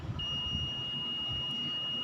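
A multimeter in diode/continuity mode gives a steady, clear electronic tone held for nearly two seconds while probing a component on a DIY LED backlight driver board, over faint room noise.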